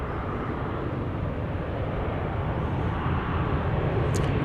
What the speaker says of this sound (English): This is a MAX 8 touching down from Phoenix